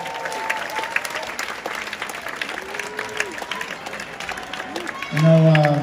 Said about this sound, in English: Give yourselves a round of applause tonight